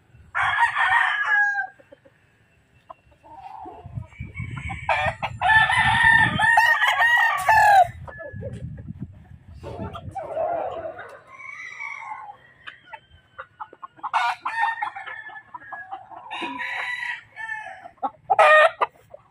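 Pure Raptor sweater gamefowl roosters crow repeatedly nearby, with clucks and other bird calls scattered between the crows against a quiet background.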